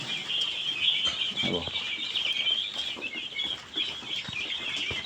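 Golden Ginny chickens on a farm make soft, scattered clucks and rustling under a constant high-pitched outdoor drone, with occasional wing flutters, fairly close.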